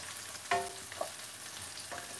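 Onions fry softly in a pan, a quiet steady sizzle broken by a couple of gentle knocks and scrapes from a wooden spoon.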